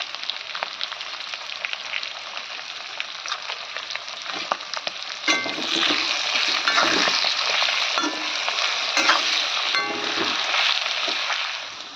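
Oil sizzles loudly and steadily in a pan as garam masala and cumin powder fry in it, and spatula scrapes and stirring join in during the second half. No one speaks.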